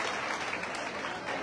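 Dense, steady applause from a large crowd fills the space throughout, honoring Maratha activist Manoj Jarange Patil at a welcome ceremony, with a few voices faintly mixed into the clapping.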